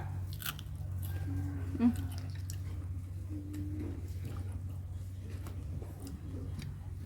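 Someone eats crunchy crab with papaya salad, with faint crisp bites and chewing in quiet, close surroundings over a low steady hum.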